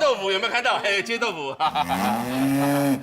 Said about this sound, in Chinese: 我的手机刚好把讯息的声音切换成牛叫声